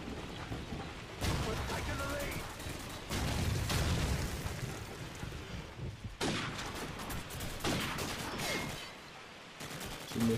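Gunfire from the video game Call of Duty 4 in short repeated bursts and single shots, loud and close, spread across the span with brief gaps between volleys and no clear talk.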